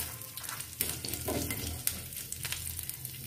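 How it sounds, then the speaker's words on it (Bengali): Mustard seeds and torn curry leaves spluttering in hot oil for a coconut chutney tempering, a dense close crackle with sharp pops and a few stirring scrapes, no voices. "এটা ফুটতে শুরু পড়েছে সর্ষেগুলো"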